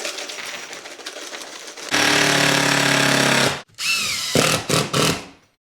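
A power saw cuts through a piece of material during wall prep for stone veneer, a loud sustained whine running nearly two seconds, then several shorter bursts of cutting with brief pauses, with quieter tool handling beforehand.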